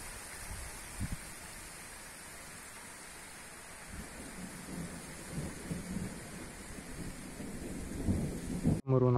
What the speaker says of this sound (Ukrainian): О, пришвидшується дощ.